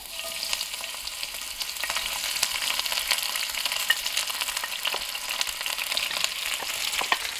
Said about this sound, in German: Und die braten wir uns erstmal schön glasig an.